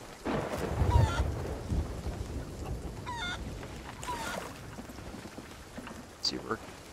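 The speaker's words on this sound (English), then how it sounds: "A lot of rain." Rain and rolling thunder aboard a ship in the pirate video game Sea of Thieves, a steady wash of rain with low rumbles and a few sharp in-game calls over it, while players talk throughout.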